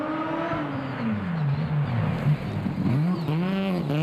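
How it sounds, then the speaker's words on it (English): Rotary-engine rally car on a rally stage in Canterbury, revving hard with rising and falling engine pitch through quick gear changes, loud and close. "Have a listen to that rotary."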